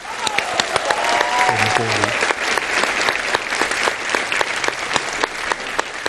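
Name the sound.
audience applause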